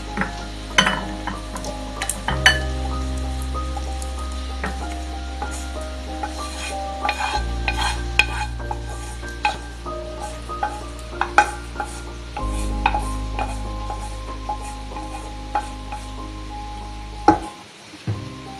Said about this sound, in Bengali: চিকেনটা আমি এর মধ্যে ঢেলে নিলাম।